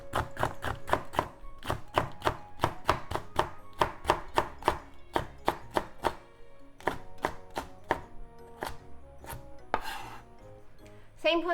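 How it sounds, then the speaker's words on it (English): A knife chops bell peppers into strips on a cutting board, a long run of crisp, evenly spaced cuts close up, pausing briefly before a few final slices. "Let's cut the bell peppers into strips."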